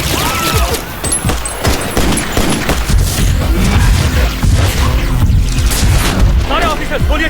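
Chaotic bursts of gunfire and heavy booms rage continuously, dense and loud, with shouting voices mixed into the clamor.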